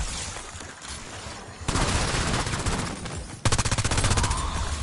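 Rapid gunfire from the video game Liberty Falls, dense sustained bursts that grow louder partway through, ending in a fast rhythmic machine-gun-like volley, with no talk.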